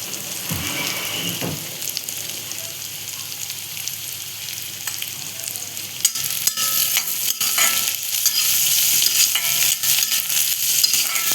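Green chilies and onion frying in a hot kadai for an Alibag-style tondli vegetable dish, a steady close sizzle that grows louder and denser toward the end, with a few sharp clicks of stirring.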